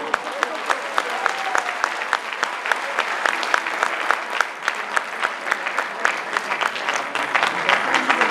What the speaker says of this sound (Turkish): Alkışlarınızla müzik öğretmenimiz Hatice Eroğlu.